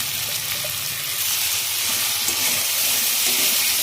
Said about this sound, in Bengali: আলুর সঙ্গে মশলাটা কষে নিচ্ছি